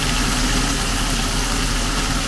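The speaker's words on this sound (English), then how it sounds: "I've got the extractor fan on, that's what that noise is." A kitchen extractor fan runs steadily while bacon cooks, a loud, even broadband whoosh with a low hum underneath and no other clear sounds.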